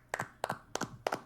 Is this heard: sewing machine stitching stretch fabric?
no